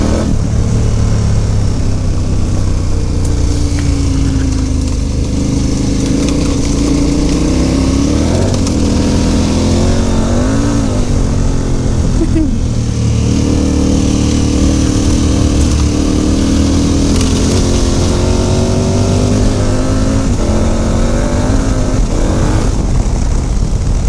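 Off-road vehicle on Bridgestone AT41 tyres works along a rutted track, its engine droning loudly and continuously with rising and falling revs, rumbling up close throughout.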